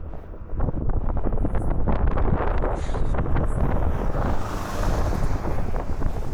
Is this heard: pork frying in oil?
no